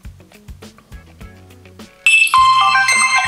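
A ringtone blares loud and clear from the external speaker of a Lenovo S8 (S898t+) smartphone, starting abruptly after a few seconds of quieter plucked musical notes.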